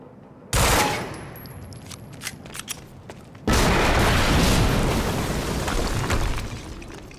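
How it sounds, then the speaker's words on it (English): An explosion hits in the game Quantum Break: a sudden loud boom gives way to a lower stretch with scattered sharp cracks, then a second heavy blast erupts into a sustained roaring rumble that slowly fades. "HQ, we just heard an explosion near the harvesting perimeter"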